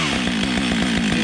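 A small forestry chainsaw engine idles just after starting with full choke, a loud, close, buzzing two-stroke putter with steady rapid pulses and no talk.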